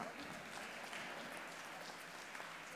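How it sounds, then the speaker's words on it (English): A dense, steady round of audience applause, many hands clapping continuously throughout. "You may, yeah, you can clap, yeah."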